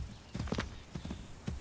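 Horse hooves in the video game Assassin's Creed III beat out a quick galloping clip-clop, with several bursts of close hoofbeats over a low rumble.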